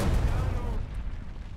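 A tank cannon in a video game fires as a deep, heavy boom with a rumbling tail that decays over about a second.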